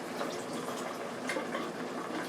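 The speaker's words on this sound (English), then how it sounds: "So I'm going to pour the excess water off" Excess water poured off potatoes, a steady close splashing gush of liquid, brief and even in level with no pauses.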